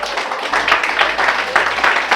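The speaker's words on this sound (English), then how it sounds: "A round of applause for ourselves." A group at a leadership session at American Corner in Lekki clapping together, loud and close, with the hand claps swelling in uneven pulsing bursts for about two seconds.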